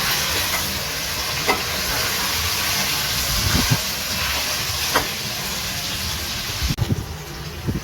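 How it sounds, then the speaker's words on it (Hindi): Mutton frying in hot oil in a home kitchen, a steady dense sizzle and hiss with occasional soft clicks of stirring, close and continuous with no talking. "ऑयल के अंदर इसको अच्छे से भूनते हैं।"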